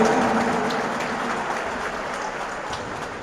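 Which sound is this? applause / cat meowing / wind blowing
applause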